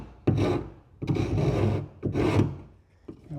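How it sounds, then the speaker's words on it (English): A very sharp chisel scrapes wood during cleanup of a kayak hatch opening on a wooden Wood Duck 12 kayak: three long, rasping strokes close by, each about a second, separated by short pauses. "I can use a very sharp chisel here and just scrape."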